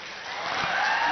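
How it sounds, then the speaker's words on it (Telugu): Audience applause at a public event, a steady dense wash of clapping that stays fairly loud and builds slightly toward the end. "కొద్ది గట్టిగా చప్పట్లు కొట్టాలి."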